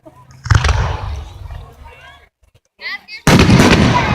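Fireworks go off at the start of a display, with loud booming bursts and crackling sizzles in close succession, while people nearby talk between the blasts.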